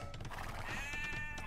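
A sheep bleats in the video game Age of Empires 2, a wavering, quiet cry over steady background game sound.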